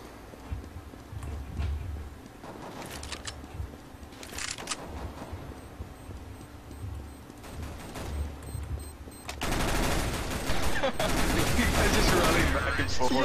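Gunfire in the Counter-Strike video game, with an M4 rifle in play: scattered shots and bursts at moderate distance under a steady game background, building to dense continuous automatic fire in the last few seconds.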